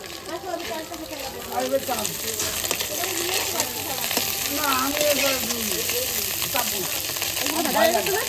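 Steady sizzling of chela fish frying in hot oil, close and continuous, with faint voices and occasional kitchen clatter.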